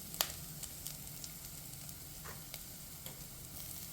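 Chopped carrots sizzling gently in a pan for a vegan carrot soup, a faint steady hiss with occasional light ticks and clinks, no voices.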